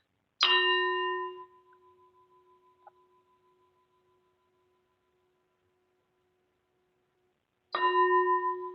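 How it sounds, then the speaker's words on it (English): A meditation bell is struck twice, once at the start and again near the end. After the first strike it rings out in a clear, pure tone that fades slowly into silence, with nothing else heard. "Please listen to the echo of the bell with closed eyes."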